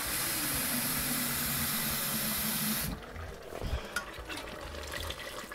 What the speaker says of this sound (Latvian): Līdz ar to es pielikšu ūdens.